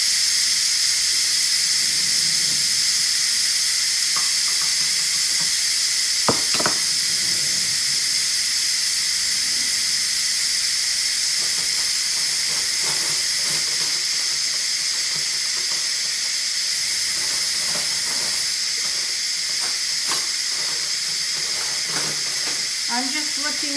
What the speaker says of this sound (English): look at that steam blow. You can probably hear it as well.